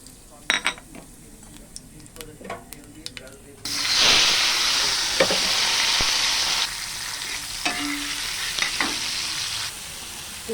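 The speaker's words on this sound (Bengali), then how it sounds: "ফোড়নে দেব কালো জিরা, লঙ্কা" Nigella seeds and chilies are dropped into hot oil for a fish curry and burst into a loud, sustained sizzle after a few quiet clinks, with occasional stirring scrapes under the hiss.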